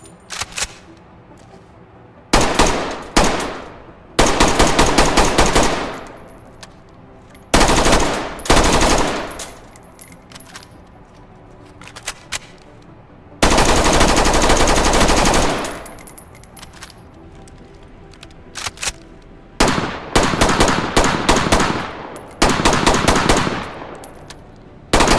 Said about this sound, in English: we've got the F90 Assault Rifle, which we've showed this one off in a previous Ready or Not update video